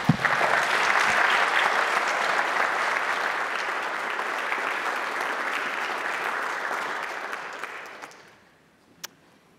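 Audience applause fills a hall at a Christian formation lecture as a speaker is welcomed, steady and dense for about eight seconds before fading quickly to near silence.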